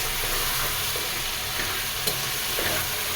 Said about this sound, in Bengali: এই তো খাসির মাংসটা খুব ভালোভাবে কষিয়ে নিলাম